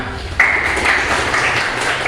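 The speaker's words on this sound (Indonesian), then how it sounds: "Beri tepuk tangan untuk kelompok pertama." A classroom of students applauds the first group after its presentation, a dense, steady patter of clapping that starts suddenly and carries on evenly to the end, with a thin whistling tone riding over it.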